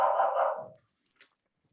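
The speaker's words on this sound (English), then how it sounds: "There's my dog" A single dog barks and growls close by, one loud burst lasting under a second, followed by near silence with a few faint clicks.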